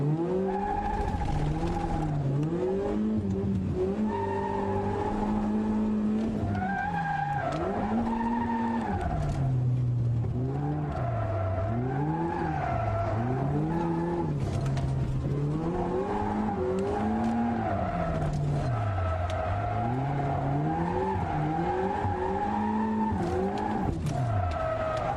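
A drift car works around a slow course, its engine note rising and falling in steady waves of revving with tire skidding and squeal woven through, continuous and close for the whole stretch.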